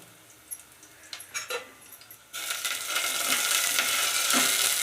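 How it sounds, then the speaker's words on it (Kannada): Garlic dropped into hot oil for buttermilk sambar: a few light clinks and taps, then a sudden loud, bright sizzle that bursts up and holds steadily to the end, close by, with no voices. "ಬೆಳ್ಳುಳ್ಳಿನ ಹಾಕಿದ್ಮೇಲೆ 1 ನಿಮಿಷ ಚೆನ್ನಾಗಿ ಫ್ರೈ ಆಗಬೇಕು"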